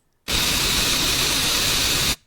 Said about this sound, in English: There's a bunch of static. There's like nothing.